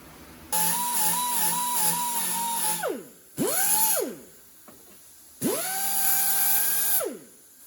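A power tool cuts a notch into a metal trunk lid at the hinge, producing three loud whining bursts that rise and fall in pitch, separated by short pauses, close and with no talk.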